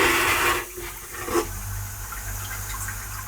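A marine-style toilet of the kind used on boats, planes and yachts flushes with about 0.7 litres of water, giving a loud short rush of water that drops away into a quieter gurgling hiss.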